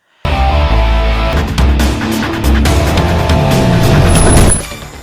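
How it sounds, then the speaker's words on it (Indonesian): A large truck slams into a car in an Indian action film, a loud sustained crash of heavy low rumble and grinding metal that runs for several seconds before cutting off, with a bright whine near the end. "mobil yang dikendarainya ditabrak oleh mobil truk besar"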